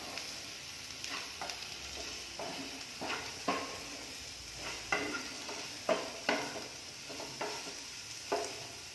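Turmeric and Kashmiri chili powder being stirred in a hot pan, with a steady sizzle and repeated scraping strokes of a spoon every second or so, close and fairly quiet.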